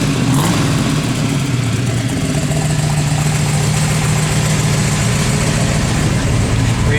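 Loud, steady V8 rumble from a 1969 Chevrolet Camaro RS/SS held at raised revs, a sustained throaty drone heard up close with a voice briefly speaking over it.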